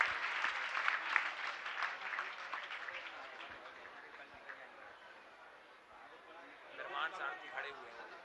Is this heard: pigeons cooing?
no